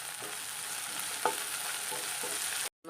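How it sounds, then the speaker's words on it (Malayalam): Curry leaves hit hot oil in a pan alongside frying onions, green chillies and paste for a curry. A steady close sizzle carries a brief stirring clatter and ends in sudden silence, with no voices. "കറിവേപ്പില ചേർത്ത് കൊടുക്കാം."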